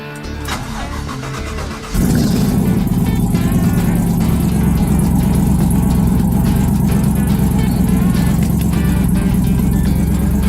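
A car fitted with a swapped L83 Gen V engine on a cold day sits quiet, then the engine fires up about two seconds in and keeps running loud and steady, close by, with no talking.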